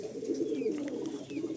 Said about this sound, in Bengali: একজোড়া এই ফটকা পায়রা দেখাচ্ছি